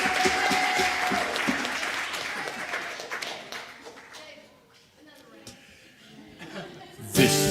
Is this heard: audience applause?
yes